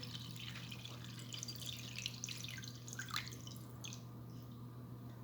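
Homemade unripe grape vinegar drips and trickles through a strainer in a quiet kitchen, a steady patter of small liquid drops with a constant low hum underneath.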